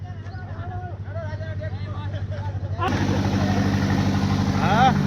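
A tractor engine idles with a low, steady drone at Vachhraj Bet in the Little Rann of Kutch, running beneath someone talking, and the noise swells noticeably louder partway through.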